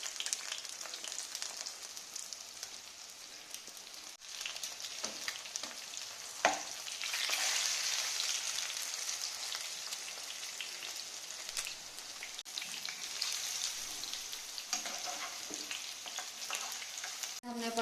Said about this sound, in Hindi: फिश हमने फ्राई करने के लिए रख दी है तो हमारी फिश अभी फ्राई होगी